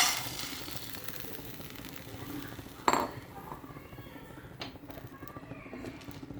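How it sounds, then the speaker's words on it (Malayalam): Chopped cashew nuts stirred in a hot pan, with steady faint scraping and a single sharp metallic clink partway through, soft background noise throughout. "അണ്ടിപ്പരിപ്പിനെ നുറുക്കിട്ട് നമുക്ക് ഇടയ്ക്കിടയ്ക്ക് ഇളക്കി കൊടുത്തുകൊണ്ടിരിക്കണം"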